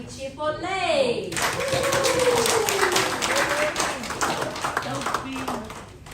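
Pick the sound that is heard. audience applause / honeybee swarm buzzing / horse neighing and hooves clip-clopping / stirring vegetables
audience applause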